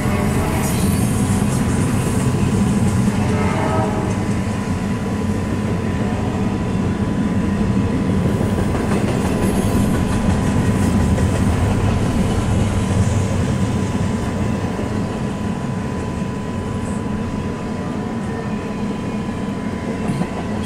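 Eastbound freight train rolling past at speed, a loud, steady roar of wheels and cars that fills the whole stretch without letting up, with a faint constant tone running beneath.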